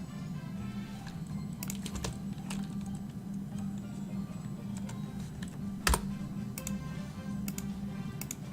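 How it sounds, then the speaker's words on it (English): Loud typing on a non-mechanical computer keyboard, scattered key clicks with a few sharper taps over a steady low room hum, close by. "I just type loudly."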